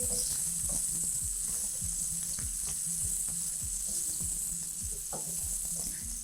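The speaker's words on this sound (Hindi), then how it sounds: "प्याज को हम सौते कर रहे हैं।" Onions sautéing in a pan for a dry, gravy-free stuffed-chilli dish, giving a steady close sizzle with repeated scraping and stirring strokes from a spoon throughout.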